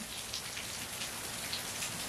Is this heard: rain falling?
yes